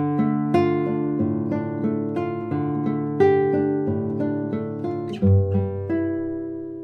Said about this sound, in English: It's from Segrarius' book 5, so it's quite an advanced study, but this is an easier passage